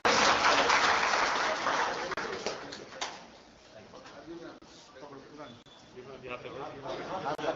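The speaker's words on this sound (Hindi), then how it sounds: "तालियों के साथ इसका स्वागत करें।" An audience at a BJP Theog Mandal prize distribution ceremony claps steadily, loudest for the first few seconds and then tapering into a softer patter.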